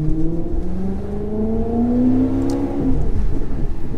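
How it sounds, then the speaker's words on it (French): Maserati GranTurismo Sport exhaust revving, a deep engine note rising and falling with throttle as revs climb smoothly, then drop back to a rumbling idle, heard close and fairly loud. "les notes qui sortent de l'échappement sont changeantes en fonction des tours minutes, en fonction de la pression que vous appliquez sur l'accélérateur"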